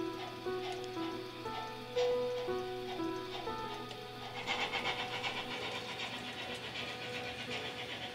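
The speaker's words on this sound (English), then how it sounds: "we're ready for the first journey of automatic operation for this new locomotive" A model BR44 locomotive running on its track makes a faint, steady mechanical hum with ringing tonal notes, then a denser patter of wheel clatter in the second half.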